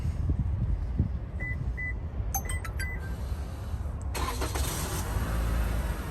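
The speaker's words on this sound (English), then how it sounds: "I'm gonna go ahead and remote start it." A few short electronic beeps chirp from a 2019–2020 Toyota Camry's remote start system, then the engine cranks and settles into a steady idle over constant low rumble.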